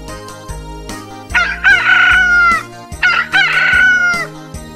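A chicken crows and clucks loudly and close by, two strained, drawn-out calls separated by short clucks, with music playing underneath.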